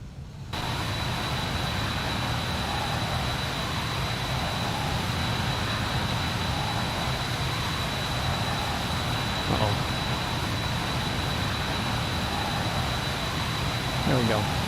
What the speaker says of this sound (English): Full power takeoff and it still wasn't enough